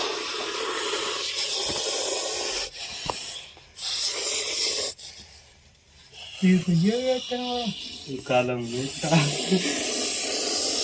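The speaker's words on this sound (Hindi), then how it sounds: "क्या फुंकार है इसकी तेज आप देख सकते हो" An angry snake hisses in loud, breathy bursts that stop and start, while someone speaks briefly over the sound.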